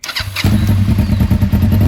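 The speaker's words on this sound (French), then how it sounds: "démarre le moteur" A motorcycle engine starts after a brief crank and settles into a loud, close, rapid idle, heard alone.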